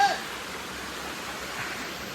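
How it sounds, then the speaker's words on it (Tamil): A waterfall in a village setting in Kerala, a steady broadband rush of falling water, moderately close, continuous and without talk. "இங்கே வந்தீங்கன்னா இந்த ஃபால்ஸை கண்டிப்பாக பாருங்கள்"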